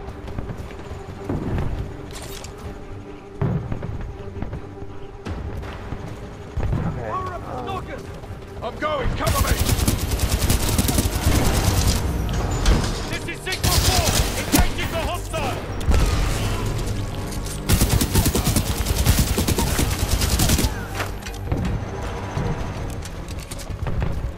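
Gunfire in the video game Titanfall 2, a dense, loud stretch of rapid shots and booms that starts after a quieter opening and runs on continuously, with a player talking over parts of it.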